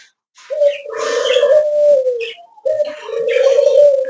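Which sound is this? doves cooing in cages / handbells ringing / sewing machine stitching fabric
doves cooing in cages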